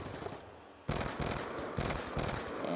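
Assault rifle gunfire in a video game, loud rapid bursts of shots in several clusters following a brief quieter lead-in, with no talking.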